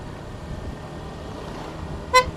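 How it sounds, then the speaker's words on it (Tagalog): A single short, high-pitched horn toot from a Suzuki Gixxer 155 FI motorcycle, whose horn works on its high tone only, sounds near the end over a quiet engine idle. "Parang sira yung busina ko. Iba yung sound eh."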